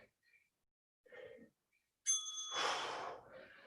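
A bright bell rings once to mark the end of a timed bodyweight workout interval, followed by a burst of breathy noise, with faint sounds before it in an otherwise quiet room.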